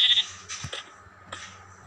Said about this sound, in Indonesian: Domba hitam.